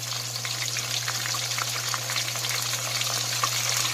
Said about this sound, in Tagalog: pinapride na natin ang ating tilapia